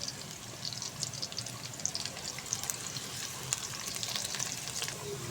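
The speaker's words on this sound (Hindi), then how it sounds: "अब देखिए खूबसूरत सा तड़का लगाने के लिए हमने प्याज भी डाल दिया इसके अंदर।" Onion, garlic and ginger fry in hot oil for a daal tadka, giving a steady, soft sizzle with faint crackles and occasional stirring scrapes, continuous and fairly quiet, without talking.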